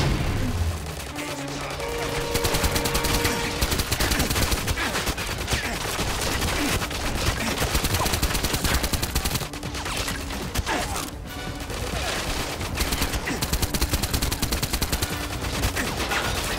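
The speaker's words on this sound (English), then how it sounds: "then the chances are they will get into an all-out firefight with the enemy" Dense gunfire fills a firefight in the video game GoldenEye 007: Reloaded, with rapid automatic bursts, crashing impacts and mechanical clatter that stay continuous and loud throughout.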